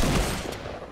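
Rapid gunfire in the video game Fortnite, a loud dense burst of shots filling a single second, close and harsh.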